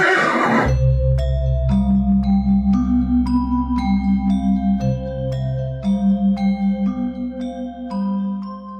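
A horse sound effect: a loud whinny at the start gives way to a steady, rhythmic musical backing with bouncing bass notes and bright plucked tones, continuing without speech.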